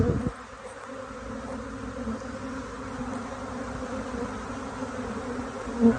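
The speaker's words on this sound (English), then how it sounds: "That is a lot of bees." A dense swarm of bees buzzes steadily and close, a constant droning hum with no talking.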